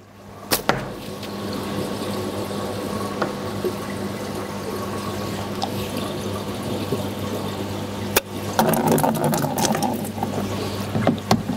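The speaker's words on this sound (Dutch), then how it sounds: "En er komt heel geleidelijk water uit om te laten zien dat hij wel gewoon zijn werk doet." Water trickles and flows steadily through an aquarium siphon hose of a Heems water-change set, a continuous close watery hiss with a few sharp knocks near the start and a louder gurgling burst toward the end.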